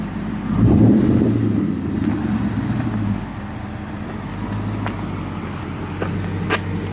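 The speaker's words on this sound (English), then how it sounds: "Off the brake, give it a rev, right?" A manual-shift car engine revving briefly off the brake during a hill-start lesson, a steady low rumble that swells early, then settles back to a smooth idle, close and unaccompanied by talk.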